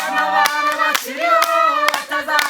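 A church congregation claps in praise of God, sharp hand claps landing in a steady rhythm beneath sustained singing voices.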